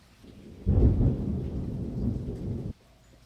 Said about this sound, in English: then there was a huge thunderclap